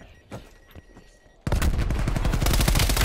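Rapid, loud automatic AK rifle fire in a 4v4 competitive multiplayer shooter match on the CrossRoad map, bursting in abruptly after a quieter stretch with scattered faint clicks and sustaining a dense, continuous rattle to the end.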